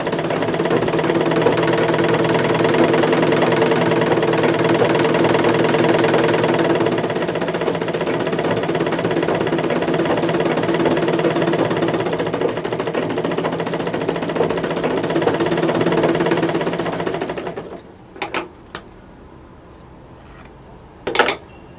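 An electric sewing machine runs steadily while stitching piping onto a garment, a continuous near, even whir with a rapid needle rhythm that stops abruptly near the end, leaving a few small clicks.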